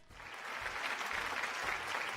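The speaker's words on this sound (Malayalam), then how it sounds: "ഒരു കയ്യടി." A game show audience breaks into applause, a dense, fairly distant wash of clapping that swells in and holds steady for two seconds.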